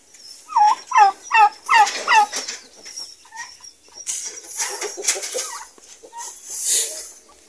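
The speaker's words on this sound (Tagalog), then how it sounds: "Sa ating mga pabo mga kabrad" Several loud turkey gobbles in quick succession up close, followed by softer clucking and fowl chatter from a flock.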